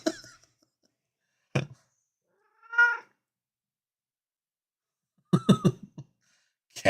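A pet cat meows several times when touched, short separate calls spaced across a few seconds, each loud and close in an otherwise quiet indoor setting.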